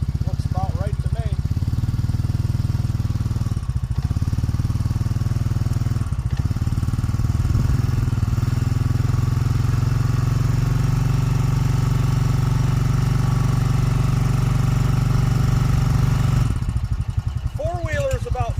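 A loud four-wheeler engine, roughly 500 pounds plus a 200-pound rider, drives up aluminum loading ramps, its steady low rumble sustained close by for most of the stretch before cutting off near the end.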